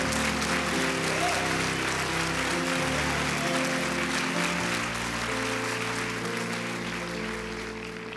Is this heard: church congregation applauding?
yes